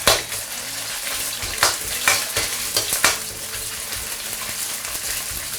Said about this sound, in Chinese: 这类肉比较肥，我们先给它煸一下